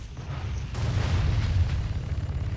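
Cannon shot in the fantasy video game Drakensang: a loud, booming blast with a rumbling low tail that carries on for a couple of seconds, no voices present.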